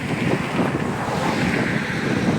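Floodwater from the swollen Satluj River rushes steadily across farmland in Punjab, a dense continuous roar mixed with heavy wind buffeting the microphone, with no voices.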